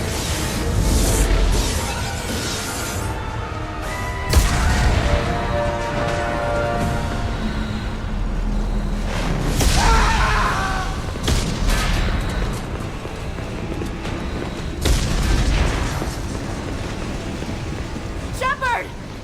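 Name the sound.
explosions on the Normandy in the video game Mass Effect 2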